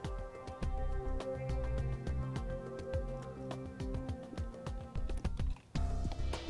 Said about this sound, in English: We can then go ahead and trim our black wire to length and strip back a little.